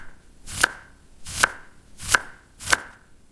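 Four sharp knife chops through vegetables on a cutting board, evenly spaced under a second apart, crisp and close with quiet gaps between.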